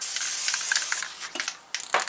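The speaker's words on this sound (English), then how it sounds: "I spray my vinyl" Short bursts of tacky adhesive spray hissing from a can onto vinyl in a spray booth, several broad airy puffs close by with brief pauses between them, no voices.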